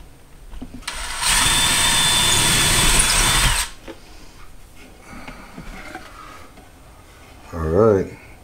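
Power drill boring a small pilot hole in a wall for shelf anchors, a loud close whirring burst lasting about two seconds that then cuts off, followed by quiet handling sounds and a short spoken phrase near the end.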